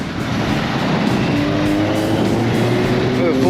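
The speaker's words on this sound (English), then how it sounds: "Nice VX SS with the LS1 V8." A Holden VX SS with an LS1 V8 at an outdoor car meet, its engine running steadily and loudly close by, with a rising tone toward the end, while people talk faintly in the background.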